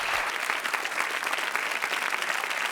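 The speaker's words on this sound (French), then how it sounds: "on peut applaudir très fort Jumpy" A TV studio audience claps steadily for a guest and her large dog after she overcame her fear of big dogs, the dense, even applause sustained throughout with no speech.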